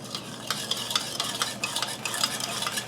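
Sugar, rice vinegar and salt for sushi rice being stirred in a pan over low heat, with a soft sizzle and scraping strokes of a utensil repeating at close range.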